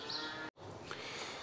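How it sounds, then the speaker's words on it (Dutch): Cattle waiting at a feed fence in a barn give a faint, low moo against quiet, steady barn ambience. "De koeien staan hier te wachten bij het voerhek."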